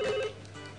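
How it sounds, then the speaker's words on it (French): A telephone gives a short ring in a French comedy sketch show, one brief bright tone that fades quickly into a quiet hum. "Là, en principe, le téléphone devrait sonner."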